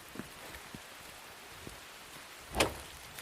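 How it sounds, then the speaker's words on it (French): Light rain falling outdoors on a farm in winter, a quiet steady patter with scattered drops landing near the microphone and one sharper, louder splash or knock late on. "Il pleut toute la journée, il paraît."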